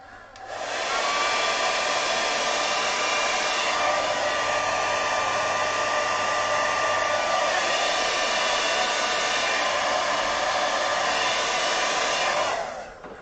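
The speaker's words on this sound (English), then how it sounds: "I'm going to give this a little burst with a hairdryer." A hairdryer blows over damp watercolour paper, a loud steady whirring roar that holds evenly for about twelve seconds before cutting off, with no voices.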